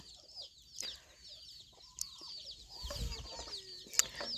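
Free-roaming farm chickens cluck in short scattered bursts, with a few louder calls standing out over a faint outdoor background.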